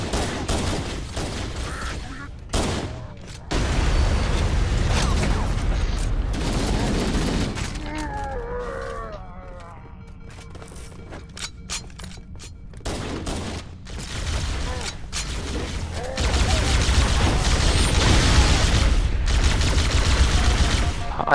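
Combat from the Halo: Combat Evolved campaign, with bursts of gunfire and plasma pistol shots crowding the scene, loud and nearly continuous, dipping into a quieter electronic stretch midway before intense firing returns.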